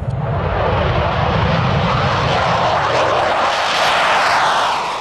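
Military airplanes roar overhead above the Adriatic, a loud, steady engine drone that fills the whole stretch with a broad rumble and hiss, swelling slightly near the end, with no voices.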